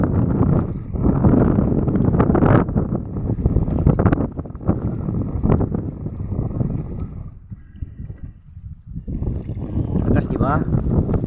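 Strong typhoon wind buffets a tuna fishing boat in Bicol during Typhoon Carina, roaring steadily and close into the microphone, dipping briefly before surging again, with people talking over it.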